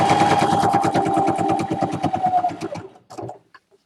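A sewing machine stitches across a microwavable bowl cozy with a rapid, even, rhythmic chatter up close, then slows and stops with a few final clicks.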